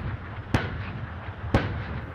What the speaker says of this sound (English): the blast of a scimitar's Raden cannon has echoed around Sennelager